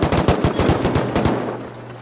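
Rapid bursts of AK rifle fire in a video game raid defense, loud close automatic shots in quick succession, alone without talk.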